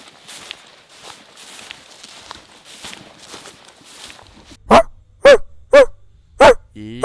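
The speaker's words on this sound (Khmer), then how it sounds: "អីសំលេងឆ្កែអ្នកណាហ្នឹងផ្ទះយើងមិនដែលចិញ្ចឹមឆ្កែផង" After a stretch of quiet shuffling and light steps, a dog close by barks sharply five times in quick succession.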